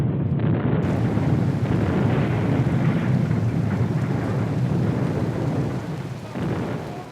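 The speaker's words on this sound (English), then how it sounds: "Here, the setup crew had to contend with the rain." Heavy rain pours down in Kenya in a dense, steady roar with a deep rumble beneath, loud throughout and easing slightly near the end.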